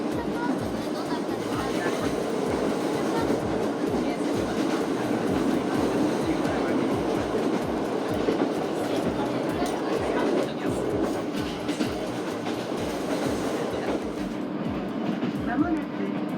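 An SR1 series electric train runs steadily on the rails on a special service between Nagano and Naoetsu, with a continuous loud rumble and rhythmic wheel clatter inside the car, and faint announcements in the background.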